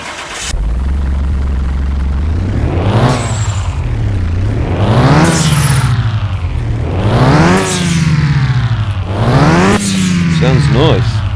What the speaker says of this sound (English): So let's fire it up first.